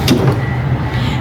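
A small wooden desk drawer in a hotel room slides open in one short, close scrape with a brief knock at the start, over a steady low room hum.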